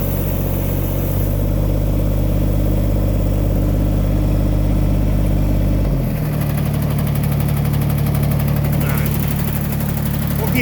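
A car engine idles after a cold start on a late-autumn morning, a loud steady close drone whose pitch drops and settles about halfway through.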